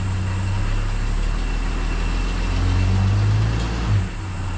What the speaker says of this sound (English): Hang on, I'm gonna power brake it forward.